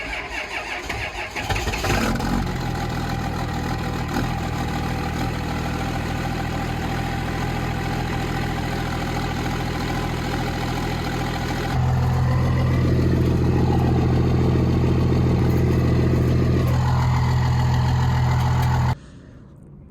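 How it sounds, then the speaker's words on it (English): A 24-valve Cummins diesel truck fitted with a 4-inch straight-pipe exhaust and a 12-inch tip starts up, then settles into a loud, steady idle close by. The note deepens and grows louder partway through before cutting off abruptly at the end. "I'll have the truck idling, I'll let it run"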